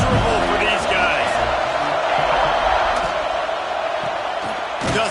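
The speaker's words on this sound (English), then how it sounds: "This crowd going to try to make life miserable for these guys." A large stadium crowd roars steadily in a College Football 25 video game matchup against Tennessee, a dense continuous wash of noise under a commentator's voice.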